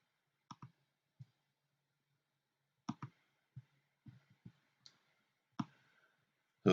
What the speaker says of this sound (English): the dice rolls